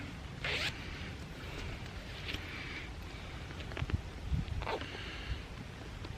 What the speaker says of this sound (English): So you can just zip that shut.